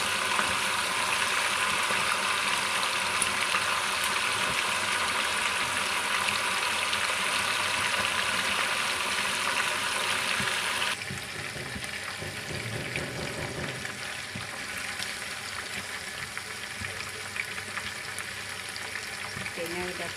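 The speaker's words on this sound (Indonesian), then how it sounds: "Goreng satenya sampai berwarna" Chicken satay skewers frying in hot oil, a steady, dense sizzle that runs continuously and close, dropping slightly in intensity partway through, with occasional stirring.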